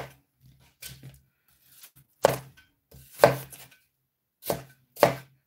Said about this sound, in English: So I'm cutting the apple and I'm adding to the blender.